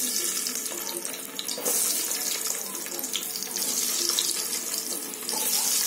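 Potatoes frying hard in hot oil over a full flame for dum aloo, a steady dense hiss and sizzle with crackle bursts, close and continuous throughout.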